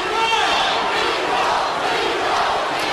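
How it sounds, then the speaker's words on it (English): Fight crowd at a Robbie Lawler versus Falaniko Vitale bout chants Nico, a loud, sustained roar of massed voices filling the arena without a break. "The crowd is doing the Rocky thing, but just chanting Nico."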